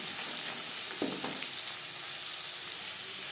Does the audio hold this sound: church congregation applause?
no